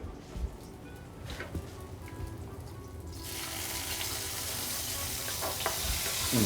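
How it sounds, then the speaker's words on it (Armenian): Dried apricots frying in a pan give a quiet, steady sizzle that grows denser and louder partway through, with faint stirring noises and no talk. "Ծիրանաչիրի տապակման process-ը շատ արագ է կատարվում, թեթևակի, կեղևապատվել եւ բավական է"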